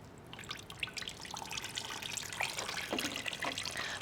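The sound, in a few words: water rinsing through pumice and tree fern potting mix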